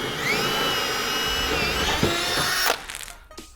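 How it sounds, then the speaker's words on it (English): A power drill whirs steadily at close range while a bench vise is fastened to a desk, holding one pitch for nearly three seconds before stopping abruptly, followed by a few faint clunks. "I need to attach this vise to the desk."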